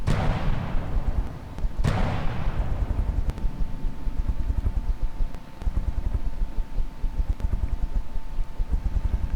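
A heavy naval cannon fires in the game From The Depths, a loud booming blast that rolls and decays, then a second shot follows about two seconds later over a constant low rumble.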